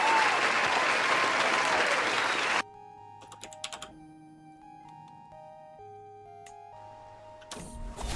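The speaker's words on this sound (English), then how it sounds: "Round of applause for that." A loud burst of applause lasts about two and a half seconds, then stops abruptly, leaving soft electronic tones and clicks from a Crusader Kings 3 game.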